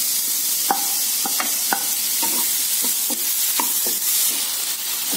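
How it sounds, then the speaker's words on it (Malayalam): Onions with a pinch of salt sauté in a pan for a vegetable roll, a steady close sizzle broken by scattered clicks and scrapes of a spoon stirring. "സവാള വതങ്ങി വരാൻ ചെറിയ കുറച്ച് ഉപ്പിട്ട് കൊടുക്കുകയാണ്"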